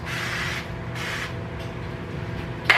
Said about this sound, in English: I'm gonna spray my pita with the oil, the avocado oil.